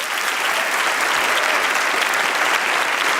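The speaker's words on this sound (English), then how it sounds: "Please give a round of applause to Tallinn Chamber Orchestra" An audience at an awards ceremony applauds a chamber orchestra and its conductor, a dense, steady burst of clapping that fills the hall without pause.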